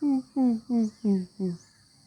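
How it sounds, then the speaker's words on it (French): A distant cuckoo-family bird gives five low hooting calls in an even, steady rhythm, each note falling slightly in pitch. "on entend un de ces coucous au loin là"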